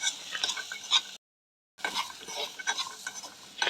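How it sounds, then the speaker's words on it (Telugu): A spoon stirring a sprouts mixture with white pepper in a pan, with close scraping strokes and faint sizzle, broken by a brief gap of silence before the stirring resumes. "వీటన్నిటిని వేసుకొని ఒకసారి అయితే మిక్స్ చేసేసుకోవటమే."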